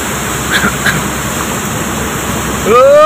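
Rushing floodwater roars as a loud, steady broadband wash throughout, with a faint high whine above it and a brief bird-like chirp, ending in a rising squeal.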